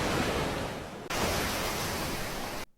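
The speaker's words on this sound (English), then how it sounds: "That's just ocean sounds" Ocean surf rushes as a broad, loud wash of noise with a brief dip near the middle before surging again, then cuts off abruptly at the end.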